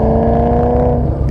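A car engine and exhaust drone loudly and steadily close by, a constant rumbling tone with no talk.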